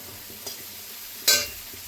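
Ridge gourd pieces frying with spices in a pan for a Bengali fish curry, a low steady sizzle with two brief stirring scrapes, the second louder and sharper.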